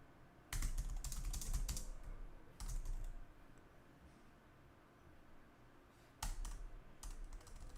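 Bursts of rapid computer-keyboard typing come in three clusters, close and fairly loud, with quieter gaps between them while someone works at a keyboard that seems to be misbehaving.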